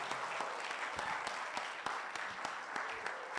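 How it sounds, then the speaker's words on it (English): Warm audience applause at a futures conference closing ceremony welcoming a speaker, steady dense clapping with a few sharper individual claps standing out throughout. "So I want to hear really a lot of applause."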